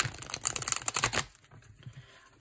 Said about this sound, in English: So now let's shuffle this way, which is a little hard.